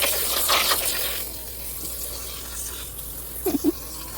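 Water is poured into a container holding dry quail dust until it is covered, a soft continuous trickle and splash, with a couple of brief louder sloshes near the end.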